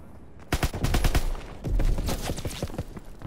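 Video-game machine gun fire in two dense bursts of rapid, punchy shots, loud and close, with the second volley rattling on more loosely as it trails off.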